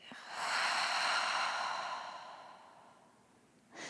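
A long, breathy exhale through the mouth during yoga breathing swells and slowly fades, followed by a brief, sharp intake of breath at the end.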